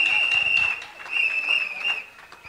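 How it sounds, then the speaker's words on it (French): Audience applause for a minister arriving at a political investiture ceremony, a steady, moderately loud wash of clapping with a constant high electronic tone and faint voices underneath, swelling and dipping slightly. "On va l'applaudir jusqu'à ce qu'il arrive ici."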